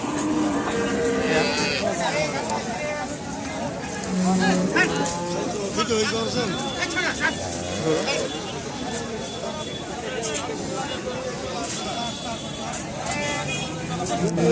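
Cattle moo repeatedly at a cattle market in the India–Bangladesh border area, loud, overlapping calls set in a busy crowd with constant talk and some bleating.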